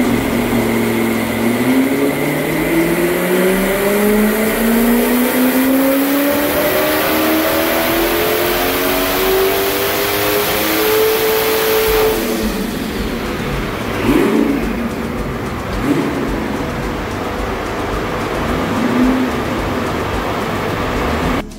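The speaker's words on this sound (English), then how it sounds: "Step by step, we initiate to tune the engine with ordinary pump gas, 100 octane" A BMW N62B44 V8 revs hard while being tuned on 100-octane pump gas, its loud, climbing engine note swelling steadily for about twelve seconds before falling back to a rougher, lower idle with a few brief blips.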